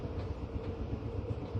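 A train gives a heavy jolt and inches away from the station. Its steady, close, low rumble fills the moment, with no speech over it.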